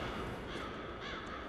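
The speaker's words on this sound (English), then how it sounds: "Oh, you hear the crows?" Crows cawing as a sound effect in the video game Chaser, several harsh caws over a dense, steady ambient wash, fairly close and moderately loud with no talk.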